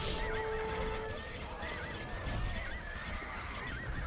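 Horses in an Age of Empires II team battle give a whinnying neigh against a busy game soundscape of clashing combat noise, the call clear at the start before fading into the din.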